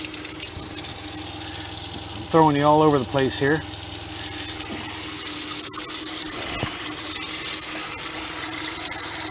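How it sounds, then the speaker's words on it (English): Water gushes from a camper van faucet fed by a newly installed electric water pump in a Ram ProMaster 2500 build, a brief burst of about a second under a steady low hum, with someone talking before and after. "And turn on our faucet."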